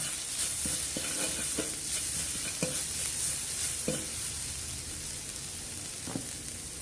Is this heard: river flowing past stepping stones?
no